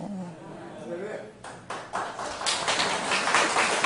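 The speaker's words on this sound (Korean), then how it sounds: "이 박수 받으니까 기분 좋네." A congregation at a summer church revival service breaks into applause, starting with scattered claps and swelling into fuller, sustained clapping, with a voice talking over it.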